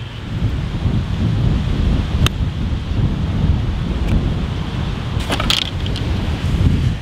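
Steady wind buffets an outdoor golf course on a par 3 hole, a constant low roar of gusts against the microphone for the whole stretch, with no talking.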